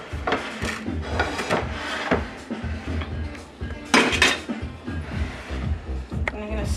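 A utensil spreads bacon mac and cheese across a baking dish, with steady scraping, rubbing and clinking against the dish that comes through loud and close as the motion keeps going.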